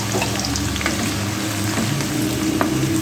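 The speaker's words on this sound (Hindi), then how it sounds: "उसमें हमने डाल देनी है 2 प्याज स्लाइस में कटी। इसको हल्का सा ब्राउन करेंगे।" Steady sizzling and crackling of two sliced onions browning in hot oil, a constant hiss with small pops, close and fairly loud.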